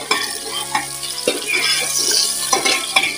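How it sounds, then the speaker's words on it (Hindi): Onion tossed into hot ghee in a pan for a desi chicken gravy, crackling and sizzling steadily up close with stirring scrapes and clinks, and no talking over it. "अब मैं इसमें प्याज ऐड कर रही हूँ"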